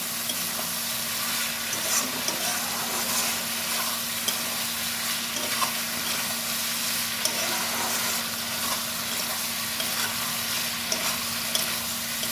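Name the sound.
frying and stirring kudli with poppy seed paste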